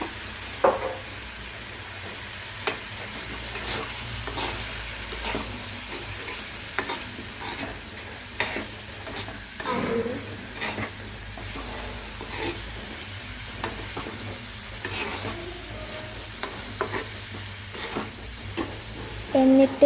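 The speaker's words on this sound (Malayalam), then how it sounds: "ഇനി അതിലേക്ക് ഉപ്പിട്ട് നന്നായിട്ട് ഇളക്കുക." Pineapple pickle frying in a pan as it is stirred, with steady sizzling and repeated scraping, clattering strokes of a spoon against the pan, close and continuous throughout with no talking.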